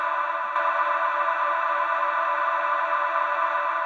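A Guitar Rig reverb unit with its output frozen holds a steady, sustained wash of processed tone, an unchanging drone-like shimmer that continues evenly without any talk.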